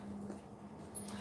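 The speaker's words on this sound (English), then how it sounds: "If you can hear the whining in the background, it's actually my puppy." Puppy whining faintly in the background indoors, a thin high-pitched whimper with a brief squeak, over a low steady hum.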